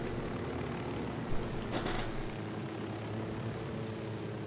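A helicopter comes in to land in the video game Tom Clancy's Ghost Recon Wildlands, heard as a steady, moderately faint rotor and engine drone with a brief swell partway through.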